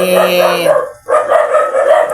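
Dogs bark loudly and close by in a steady run of yelps and howl-like tones, with a brief pause partway through.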